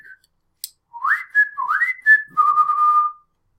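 A person whistles a short tune of rising and falling notes alone, clear and close, with a tiny click before the first notes.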